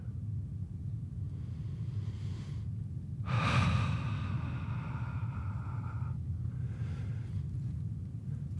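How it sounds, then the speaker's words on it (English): Slow, relaxed belly breathing: one long, soft breath swells and fades against a quiet low background hum, with a fainter breath following near the end. "Feel yourself breathing in,"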